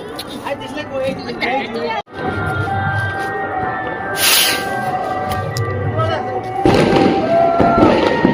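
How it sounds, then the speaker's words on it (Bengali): A rocket firework is lit for Diwali with a sharp pop, then hisses and whooshes upward. People talk loudly throughout, and a louder rush comes near the end. "ওই দেখো রকেট ধরাচ্ছে বাবলাই।"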